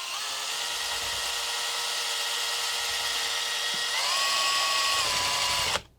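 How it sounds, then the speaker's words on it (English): A power drill spins the drive shaft of a Suzuki FZ50 oil pump, a steady high whine that rises in pitch partway through and then stops abruptly. "I'm actually going to spin the bottom that goes into the engine with a drill."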